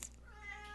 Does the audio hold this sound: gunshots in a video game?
no